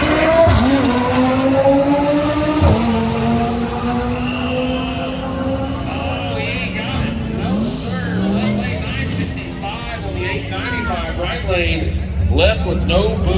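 A Tesla and an Audi TT launch side by side down a drag strip at a street car takeover event at US131 Motorsports Park, engines roaring loud and continuous with rising revs and tire noise, while an announcer talks over them.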